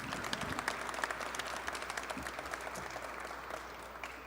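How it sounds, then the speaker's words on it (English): Faint, moderate applause from the audience at an SFPD Officer of the Month ceremony, a continuous patter of clapping with a few distinct claps standing out, gradually tapering off. "One last round of applause for everyone."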